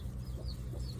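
A mother hen clucks softly and briefly, low and muffled, a single faint close burst.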